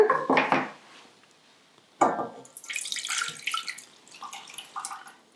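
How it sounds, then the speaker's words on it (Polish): A few knocks of a pot, then a glass of water pours and splashes steadily into a small pot while making Karpatka cake, close by, with no one speaking. "Do garnuszka wlewamy szklankę wody."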